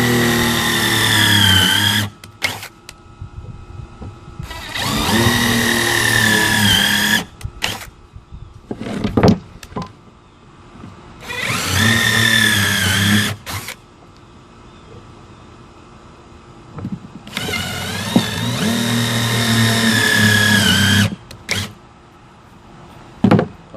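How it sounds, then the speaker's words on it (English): A power drill bores pilot holes in scrap wood in three long whining bursts, each winding up and down, separated by pauses with small handling knocks. "We will drill those pilot holes."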